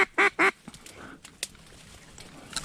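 A duck quacks during an October duck hunt in Minnesota, giving two or three loud, close, nasal calls in quick succession, followed by quieter outdoor sounds.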